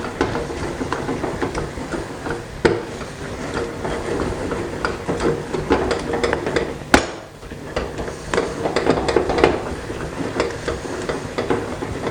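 Churros dough being stirred in a saucepan as it dries and pulls away from the sides, giving a steady run of scraping and thudding strokes at close range with one sharper knock partway through.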